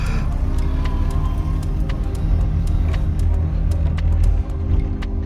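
A Ford Escort Mk2 Sport with a 32/36 carburettor drives along steadily. Its engine gives a continuous low rumble heard from inside the car, and a few faint clicks sound over the drone.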